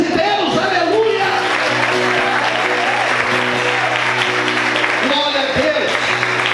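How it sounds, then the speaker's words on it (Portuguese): A church congregation applauds loudly and continuously while a voice speaks and cheers over the clapping, with shouts and amplified sound mixing into the crowd noise. "Você pode aplaudir a esse Deus"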